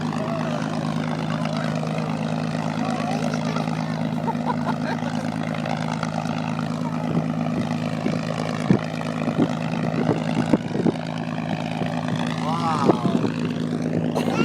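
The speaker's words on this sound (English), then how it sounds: "They're starting the airplane up." A propeller airplane engine at an air show at Manassas Airport runs with a steady droning hum, close and fairly loud, while spectators chatter nearby.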